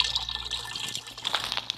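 Water is made in the survival game Raft, a steady liquid trickle and bubbling with faint drips, close and continuous, nearly without talk.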